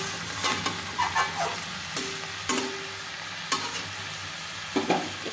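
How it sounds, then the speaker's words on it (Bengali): Shing fish sautéed with turmeric and salt in a pan, a low steady sizzle broken by several sharp scraping stirs of a spatula at irregular moments. "নুন দিয়ে হলুদ দিয়ে আমি একটুখানি এভাবে ভালো করে কষিয়ে"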